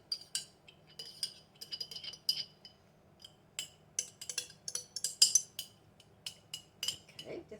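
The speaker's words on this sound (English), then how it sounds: "Can't be quiet getting everything out of a jar." A metal spoon scrapes and clinks against the inside of a small glass jar of RAGU double cheddar sauce, giving a steady series of sharp, close taps and scrapes with brief pauses between them.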